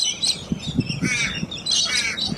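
Crows caw outdoors in a few harsh, raspy calls spread across a couple of seconds, moderately near, with no voices.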